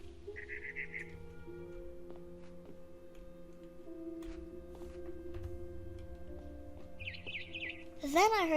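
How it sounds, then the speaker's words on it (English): Game audio from What Remains of Edith Finch places a barn swallow outside a window, with two short bursts of rapid chirping over a soft hum and ticking, followed by a louder warbling call at the very end. "Then I heard chirping outside my window."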